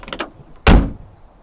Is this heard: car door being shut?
yes